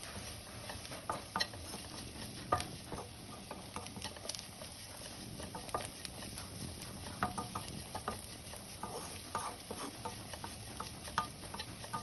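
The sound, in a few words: stirring coriander powder into beef curry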